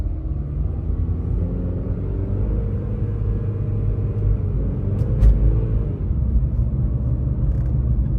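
A car with a slipping transmission idles with a deep, steady engine rumble, briefly faltering as if stalling before it shifts into gear, heard close and continuous with no talking.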